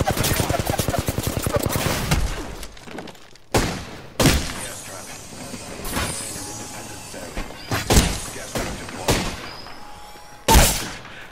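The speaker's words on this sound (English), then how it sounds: "Yo, they were shooting at me." Gunfire in the shooter game Apex Legends: a rapid automatic burst up front, then a series of sharp separate shots and impacts spaced through the clip, loud and near, with a player's voice talking in between.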